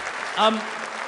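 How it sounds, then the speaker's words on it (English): Brief burst of crowd applause for a speaker at a political rally in Birmingham, heard under a voice, short and fairly faint within about a second of talk. "Give him a round of applause."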